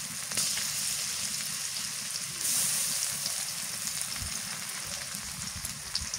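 Garlic paste hits hot oil with already fried onion and chili, a steady close sizzle and crackle like rain on a surface, swelling briefly louder as the paste goes in, with no voices.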